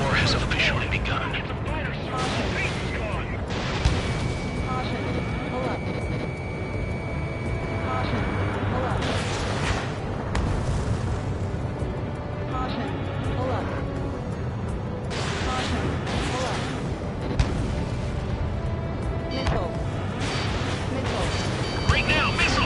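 Anti-aircraft gunfire in Ace Combat 7: Skies Unknown, a dense, continuous barrage of booming bursts and crackling shots that runs the whole time, mixed with loud battle noise and radio chatter.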